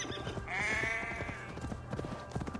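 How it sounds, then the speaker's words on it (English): A sheep in Assassin's Creed Valhalla gives one drawn-out bleat near the start, followed by soft thuds and footfall-like clatter as the character runs over the animals. "Running over sheep."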